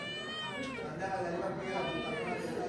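A cat meows repeatedly in drawn-out, wavering cries, close by, alongside a person talking in a rural village home.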